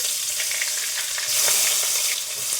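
Chopped onion frying in hot oil with whole cumin and bay leaf sizzles steadily up close, with occasional stirring scrapes and no voices.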